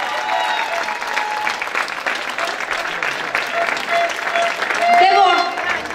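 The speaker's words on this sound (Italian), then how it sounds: "Fatemi un applauso!" A crowd applauds at an outdoor rally closing an Italian local election campaign, a thick continuous wash of clapping with cheers and shouts, growing louder near the end while voices call out over it.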